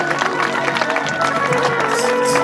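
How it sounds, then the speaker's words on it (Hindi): A crowd at a devotional music event clapping together in an even, continuous wave of applause, with some voices mixed into the clapping. "जोर से ताली"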